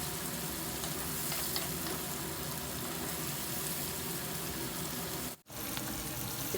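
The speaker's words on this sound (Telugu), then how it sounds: "సన్నగా తరిగిన ఆనియన్స్ కూడా వేసేసుకొని దీంట్లో ఒక చిటికెడు పసుపు, 1 స్పూన్ సాల్ట్ వేసేసి ఆనియన్స్ని బాగా మంచి కలర్ వచ్చే వరకు వేయించుకుందాము" Thinly sliced onions fry in a pan with turmeric and salt for a village-style spicy chicken curry. They sizzle loudly and continuously up close, with one brief dropout near the end.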